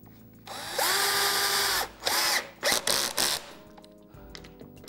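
A power drill drives screws while a concealed cup hinge is fitted, its whine rising in a sustained burst, then several short stop-start pulses with ratcheting clicks, close and loud with no talk.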